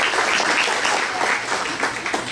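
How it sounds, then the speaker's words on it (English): A conference audience claps steadily for over two seconds, a dense, even wash of many hands close by with slight swells toward the end and no talk over it. "you can clap again"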